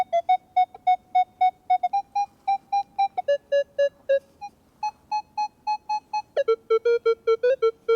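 A Minelab X-Terra Pro metal detector sounds its tones over foil, a quarter, a nickel, a dime and a penny. Quick repeated electronic beeps come in short runs, each run at its own pitch, clear and loud.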